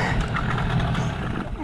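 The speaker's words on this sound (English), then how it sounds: "Let's just kill the engine." A boat engine idles steadily on open water near a sand island, a continuous low rumble at moderate loudness with faint voices mixed in.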